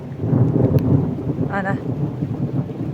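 Steady rain falls outdoors on a cloudy day with a constant even hiss, and a voice speaks a single word briefly.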